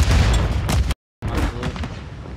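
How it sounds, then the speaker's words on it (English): A smoke grenade deployed in a shooter match pops and releases a broad, loud rushing hiss that cuts off abruptly, then a second hissing burst follows at slightly lower level. "That's my smoke, my smoke, I smoked it."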